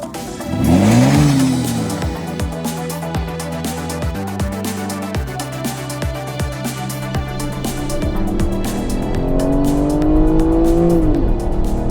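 An Aston Martin Rapide S four-door supercar engine revs hard, rising with throttle blips and falling pitch sweeps and gear shifts, then climbing again to a loud, close roar with no talking.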